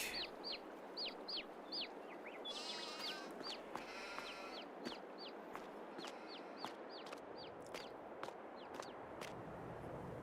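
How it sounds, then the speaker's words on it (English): Chickens cluck and crow in a custom paddock on a farm in Farming Simulator 22, a steady run of short, repeated calls at moderate distance over a constant outdoor ambience, with no talking. "We've got chickens up here"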